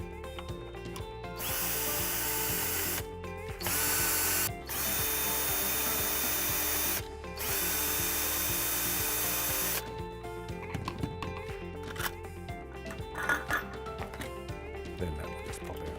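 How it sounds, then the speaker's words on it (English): A power screwdriver whirring in sustained bursts as it backs out screws on a Polaris Vac-Sweep 280 pool cleaner, several long runs separated by short pauses, followed by lighter clicks and handling of parts, close up. "that'll allow you to undo these 4 screws"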